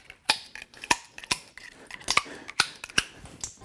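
Bubble tea straws being pushed down through a stacked wedding cake, giving a run of crisp, hollow pops and crunchy clicks at an uneven pace, close and fairly quiet, with no talking.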